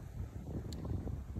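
Wind gusting against a newly set-up greenhouse in Texas, a low steady rumble and buffeting close to the microphone, with no voices.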